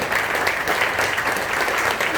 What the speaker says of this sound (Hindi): जोरदार ताली से स्वागत है।